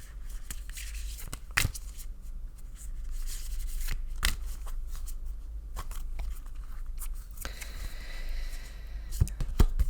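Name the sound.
shuffling cards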